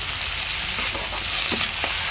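Sliced potatoes sizzle in hot oil with salt as leafy greens are stirred in, a steady close frying hiss with soft scraping stir sounds.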